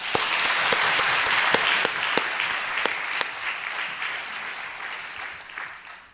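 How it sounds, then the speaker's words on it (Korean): A church congregation at a joint evening revival service claps for two choirs, a loud, crisp burst of applause with a few sharp individual claps that gradually tapers off toward the end. "이 두 교회 성가대원들 한번 특별히 격려하고 축복하는 박수 한번 드십시오"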